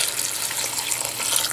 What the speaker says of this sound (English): Add 1 glass water